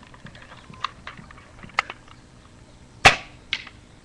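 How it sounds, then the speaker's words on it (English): A shotgun fires at an outdoor range in one loud, sharp blast near the middle, with fainter clicks and small knocks scattered before and a softer report after. "the first shot by the shotgun went here"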